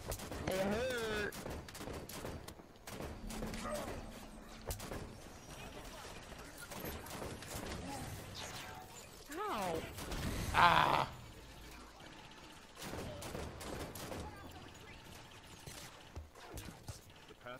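Enemy turret fire in the Halo 5: Guardians shooter, scattered bursts of gunfire among battle noise, with a louder cluster of shots partway through and a voice talking over parts of it.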